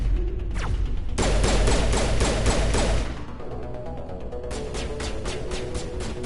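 Mass Effect Legendary Edition combat: a run of evenly spaced sharp gunshots over a heavy rumble, then a quieter second volley of rhythmic shots after a short pause, fairly close and with no talking.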